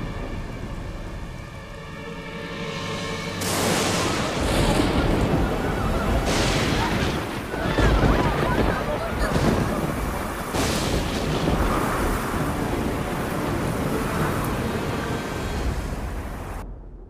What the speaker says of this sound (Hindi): ये तूफान तब तक थमना नहीं चाहिए जब तक वृंदावन पूरी तरह पानी में डूब न जाए